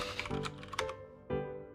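Typing on a computer keyboard, a short close burst of sharp key clicks with a louder single strike near the end, alone and clear.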